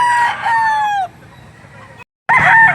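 A loud, nearby rooster crow at a chicken market in Lipa, Batangas that trails off, then a brief lull, a sudden dropout, and the crowing resumes abruptly.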